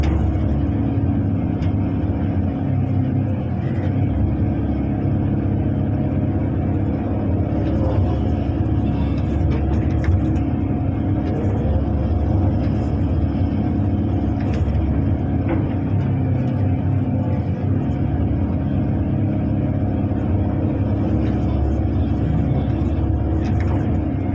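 A Kobelco SK200 excavator works on dusty ground, levelling land and digging a pond for a durian plantation, its diesel engine droning loud and close in a continuous, unbroken rumble.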